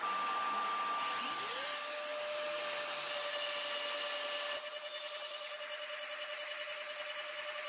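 A CNC machine mills steel step blocks, giving a loud continuous broadband whir with a steady high spindle tone that rises at the start, later turning into a rapid pulsing cut.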